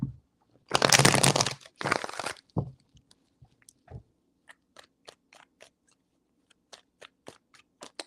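Tarot cards are shuffled in two brisk riffling bursts, close and crisp, followed by a scatter of light taps and clicks as the cards are handled and laid down, with no talking.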